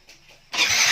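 A Honda Mio i125 motorcycle engine catches after a quiet moment, jumping abruptly into a loud, steady, close running roar that continues to the end.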